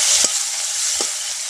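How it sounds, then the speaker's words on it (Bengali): Chopped onion frying in hot oil makes a continuous close sizzle, broken by two soft scraping stirs, with no talking. "পেঁয়াজটাকে একটু ভেজে নিচ্ছি"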